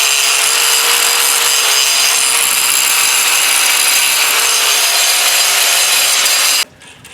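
Grinder wheel grinding down the corners of steel plow parts, a loud, close, continuous high-pitched abrasive whine that stops abruptly near the end.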